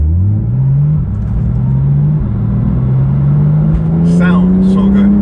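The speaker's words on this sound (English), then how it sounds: "you can hear already the droniness of that exhaust" An inline-six car's exhaust drones loudly and steadily from inside the cabin as the engine climbs through the revs, a deep continuous hum with a brief voice near the end.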